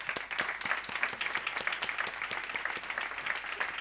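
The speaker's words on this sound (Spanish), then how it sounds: "Un fuerte aplauso para Ignacio." Sustained audience applause at a Spanish architecture and decarbonisation conference, dense steady clapping from a crowd that holds fairly even throughout without fading.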